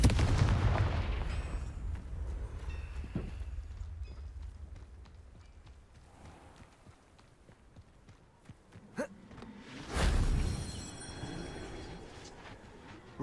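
A Confringo blasting spell from the video game Hogwarts Legacy, a burst of fiery impacts at the start and a second sharp blast near the end, with crackling game ambience between them and no talk.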